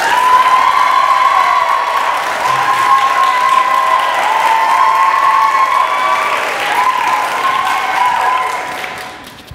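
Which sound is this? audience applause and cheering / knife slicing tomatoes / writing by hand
audience applause and cheering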